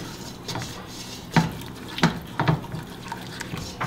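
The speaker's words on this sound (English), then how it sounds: "Make sure you whisk that in really good." A whisk scrapes and clinks against a pot as flour is stirred into melted butter for a roux for crab bisque, giving a few sharp metallic taps over soft stirring.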